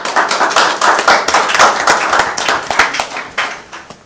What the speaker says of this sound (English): think that applause is appropriate